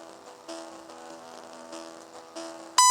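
A constant droning buzz of many bees nearby, rising and falling slightly in loudness, ending with a sudden louder whine.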